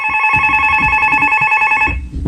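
An electronic telephone rings loudly and close for about two seconds in a warbling, pulsed trill, then stops abruptly, with faint background noise underneath.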